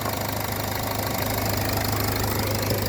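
A warmed-up Toyota Etios GD diesel car engine runs steadily up close, with a constant knocking clatter and a deep, even idle.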